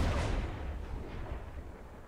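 Ship cannon fire in the pirate naval video game Blazing Sails, a deep rumbling boom that rolls and decays over about two seconds, fairly distant and muffled.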